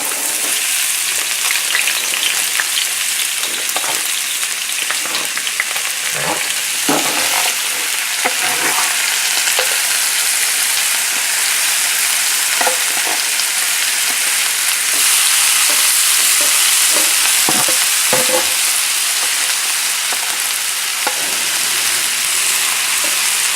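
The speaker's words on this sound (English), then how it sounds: "we're going to start sauteing." Shrimp and brown rice sauté over a high flame, giving a loud, dense, continuous sizzle and hiss throughout, with occasional scraping and tossing in the pan and no talking.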